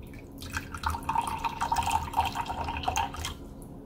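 Liquid is poured steadily onto a digital kitchen scale, making a continuous close trickle and splash that lasts several seconds and stops near the end, with no talking.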